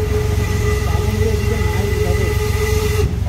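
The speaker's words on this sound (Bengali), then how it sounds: "দেখতে পাচ্ছ টয় ট্রেন আমাদের সামনে যাচ্ছে।" A coal-powered Darjeeling toy train moves past on its mountain line, a steady, loud rolling rumble with a faint whistle-like tone held throughout before it eases off at the very end.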